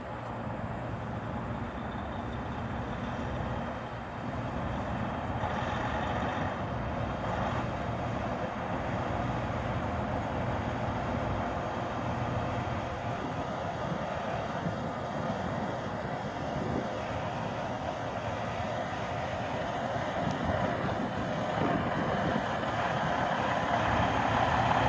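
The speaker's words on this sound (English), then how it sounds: "I'm going to get in the truck and show you the setup driving forward" A truck rolls forward with a steady low engine rumble and road noise, continuous and fairly close throughout, no talk.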